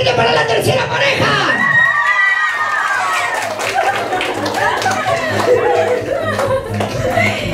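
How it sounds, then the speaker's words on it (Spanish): Guests at a child's first birthday party cheer and shout for a dancing couple, a loud crowd din full of children's yells and laughter, with music and a voice talking over it throughout. "¡Palmas y gritos para la tercera pareja!"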